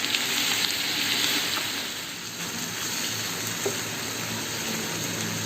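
Masala cooked down with tomato puree in a pan, a steady close sizzling hiss with faint stirring scrapes throughout, slightly louder at the start.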